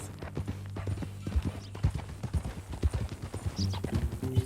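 Horse hooves clip-clop in Red Dead Redemption 2, a steady walking rhythm of close, distinct hoof strikes over a low sustained background hum, with no talk over them.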